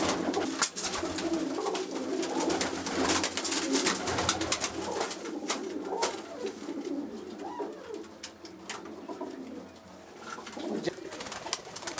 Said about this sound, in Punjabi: ਜਹਾਨਜ਼ੇਬ ਬਾਈ ਦੇ ਪਰਵਾਜ਼ੀ ਕਬੂਤਰ ਨੇ